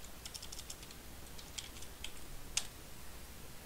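Light typing on a computer keyboard, scattered soft key clicks with a couple of sharper taps, faint and close in a quiet room.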